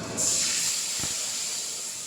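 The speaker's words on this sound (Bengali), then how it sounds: "সামান্য সাদা জিরে ফোড়ন দিয়ে এবার আমি পেস্টটা এর মধ্যে দিয়ে দেবো" Spice paste with cumin seeds hitting hot oil, a loud steady close hiss of sizzling that starts abruptly and holds throughout.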